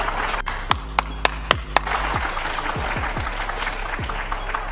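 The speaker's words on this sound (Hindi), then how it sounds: "एक बार पहले जोरदार तालियां मनोज जी की" A studio audience applauds for Manoj Tiwari, a continuous bed of crowd clapping with a few sharp, loud nearby claps standing out early on.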